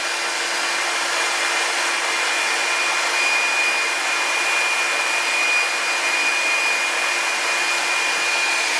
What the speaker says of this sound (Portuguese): agora eu tô com o secador de cabelos